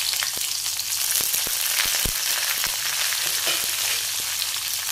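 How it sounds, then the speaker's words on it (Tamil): Loud, continuous sizzling of shallots and curry leaves frying in hot oil, with scattered crackles and pops and no talking. "சின்ன வெங்காயத்தையும் கருவேப்பிலையும் சேர்க்கணும்."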